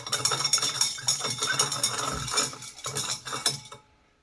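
A utensil stirs a warm liquid to dissolve soluble fixed salts in an alchemy preparation, making steady metallic clinks and scrapes against the vessel at close range, with no talk.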